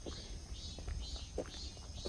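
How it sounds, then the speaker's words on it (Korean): Cicadas buzz in late summer along a riverside walking path by Jinju Fortress, a faint, steady high-pitched drone with a few soft, brief rustles beneath it. "매미가 마지막 가는 여름을 안타까워 하는 듯 합니다"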